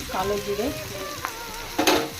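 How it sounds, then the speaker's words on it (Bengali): Green chillies and onion sizzle in a hot pan while being stirred, a close crackling fry with scraping clatters of the spoon and a sharp burst near the end. "কাঁচা লঙ্কা দিয়ে দিচ্ছি, পরিমাণ মতন পেঁয়াজ। এগুলো হালকা নেড়ে ফেলে নেব।"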